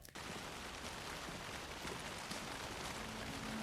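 Steady rain pouring down in the video game Alan Wake 2 at a dark, soaked forest campground, a continuous close hiss of drops with no voices.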